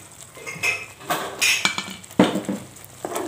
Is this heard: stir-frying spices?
yes